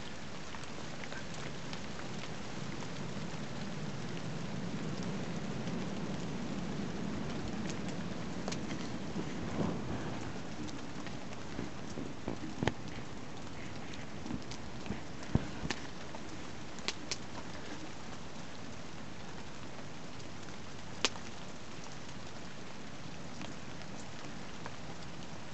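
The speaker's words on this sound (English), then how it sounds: "Rain is going in on that platform there, but it's missing hammock." Steady rain falls on a camp platform in a winter-to-spring woodland camp, a constant soft hiss with occasional sharper drips and taps scattered across it.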